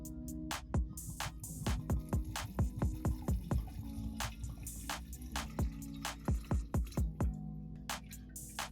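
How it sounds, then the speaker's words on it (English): Vodka is poured over lemon peels in a pitcher, giving a run of close, irregular liquid splashes and drips that stop and start over several seconds, with no voices. "Then pour the vodka over the peels"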